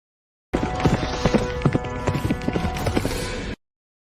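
Hooves of a frightened black horse clip-clop in a fast, uneven series of close, sharp knocks lasting about three seconds, over a dense rumbling background.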